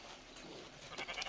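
Sheep bleating in the Red Dead video game, a short wavering bleat rising near the end over a steady bed of background noise.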